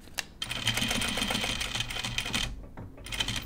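A sewing machine stitches a jacket in a fast, continuous mechanical chatter with a couple of brief pauses, close and fairly loud, with no voices.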